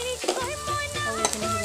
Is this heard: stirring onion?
yes